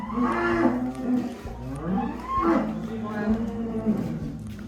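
Cattle at a farm, a jumbo bull and a calf, moo repeatedly in long low drawn-out calls about once a second, close and loud over a constant background din, with voices mixed in.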